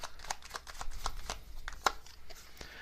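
Tarot cards shuffled by hand in a quick run of crisp riffling flicks and soft slaps, close and clear, ending in one sharper snap of the deck.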